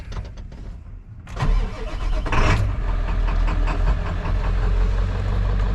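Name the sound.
1997 Ford F350 truck engine idling after starting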